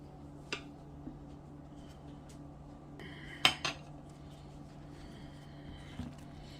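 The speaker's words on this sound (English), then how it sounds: "I'm going to kind of mix this up a little bit." A spoon works through food in a dish while finger foods are prepared, giving a few sparse metallic clinks and scrapes, one sharper knock in the middle, over a quiet room hum.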